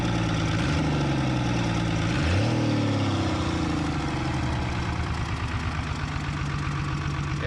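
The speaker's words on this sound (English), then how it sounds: "It is definitely a slow revving engine, but it's got lots of deep down torque" A 1975 Chevy diesel engine idles with a steady, deep knocking clatter, close and loud, holding an even slow rhythm throughout with a slight dip in pitch early on.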